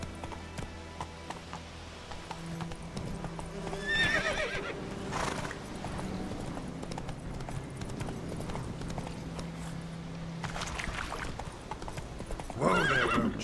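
Roach, Geralt's horse in The Witcher 3, gallops with steady clip-clop hoofbeats and gives two loud whinnies, one early and one near the end, over a low ambient game backdrop.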